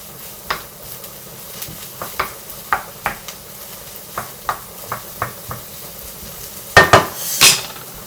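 A spoon scrapes and clinks at intervals against a pan while vegetable curry is stirred over high heat, with soft sizzling underneath and a louder clatter toward the end.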